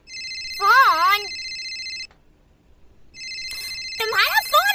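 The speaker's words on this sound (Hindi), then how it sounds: "तुम्हारा फोन बज रहा है।" A mobile phone rings indoors in two loud bursts of a bright electronic ringtone separated by a short silence, with a voice speaking over each burst.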